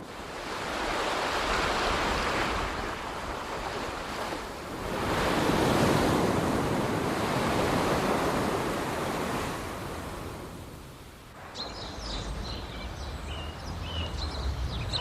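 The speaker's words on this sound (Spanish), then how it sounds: "El mar, que fascina con su inmensidad de agua a los habitantes del desierto." Sea waves roll in and break on a shore with a broad, loud roar. The surges swell and fade in long, overlapping washes, and wind noise buffets the microphone.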